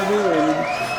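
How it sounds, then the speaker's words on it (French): A studio audience cheers and whoops on a French television show, with sustained crowd voices and shouting filling the whole moment and only faint clapping beneath. "Applaudissements pour Émilie Ménard"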